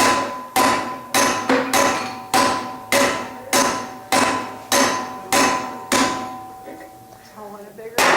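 Heavy hammer blows ring out on hot metal at a blacksmithing conference forge, about a dozen loud, evenly spaced strikes with metallic ringing, slowing and fading toward the end.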